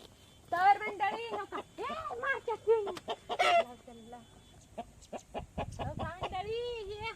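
Hens cluck repeatedly at a small chicken coop beside a pond, their close, choppy calls coming in bursts with a few voices talking among them.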